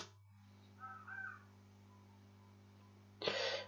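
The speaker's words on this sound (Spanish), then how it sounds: "creo que el cuervo viene del juego" A crow caws in the Resident Evil 0 HD Remaster horror game, two hoarse calls near the start and then a loud, harsh caw at the end, over a steady low hum from the game.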